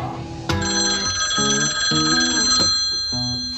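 An electronic telephone ringtone sounds close and clear, playing a repeating pattern of bright melodic tones with short pauses, no voices over it.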